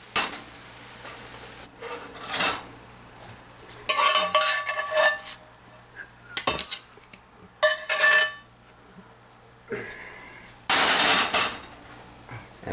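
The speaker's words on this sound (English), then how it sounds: "And that is the Finex cast iron skillet." Metal utensil scraping and clattering in a hot Finex cast iron skillet while a frittata cooks, in several separate bursts of scraping with quiet gaps between and a faint sizzle underneath.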